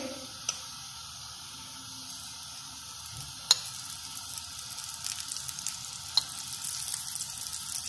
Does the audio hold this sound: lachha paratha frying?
yes